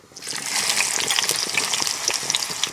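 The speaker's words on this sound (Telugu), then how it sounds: "నూనె అయితే కాగింది ఇందులో ఉల్లిపాయ ముక్కలు వేసుకుంటున్నాను" Onion pieces dropped into hot oil for a Telugu vankaya nethallu curry set off a loud, close, continuous hissing sizzle that rises quickly and then stays strong and crackling.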